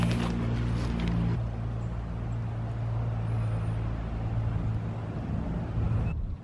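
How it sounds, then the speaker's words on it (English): A four-wheeler ATV drives by near an 1800s cemetery, its steady, droning engine hum loud and continuous throughout, shifting slightly as it passes. "we got somebody on a four-wheeler driving by"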